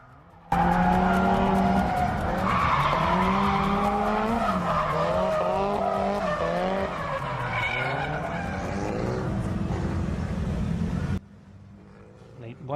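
Drift cars at a beginner drift event in Kyushu, including a Nissan S13 Sylvia fitted with a 180SX nose, skid and squeal steadily with engines wailing up and down, loud and continuous, under a voice talking over it.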